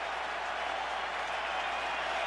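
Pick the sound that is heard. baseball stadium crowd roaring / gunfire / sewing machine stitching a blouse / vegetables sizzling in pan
baseball stadium crowd roaring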